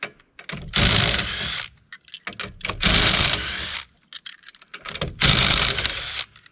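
A Ryobi cordless impact driver hammers at old lug nuts on a Subaru coupe that hadn't been off in over two years. It fires in three loud, rattling bursts of about a second each, with short pauses between them.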